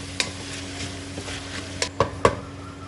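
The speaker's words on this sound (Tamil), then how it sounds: "தக்காளியும் நல்லா வதக்கி எடுத்துக்கலாம்." Tomatoes sauté in a pan for a restaurant-style kurma, a soft steady sizzle punctuated by a few distinct spoon taps and scrapes against the pan, close and without talk.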